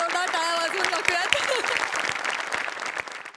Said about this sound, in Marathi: समोर बसलेल्या प्रेक्षकांसाठी पण एकदा जोरदार टाळ्या वाजवून टाकूयात